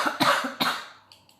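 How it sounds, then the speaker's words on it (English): Two quick, harsh coughs in a row, close and fairly loud, followed by a fading breathy trail and a faint throat sound, with no talking. "Even you might have to cough just to let it go."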